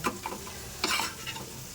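Bitter gourd slices sizzle and crackle in hot oil, with a few louder bursts of spitting and occasional clinks of utensils in the pan.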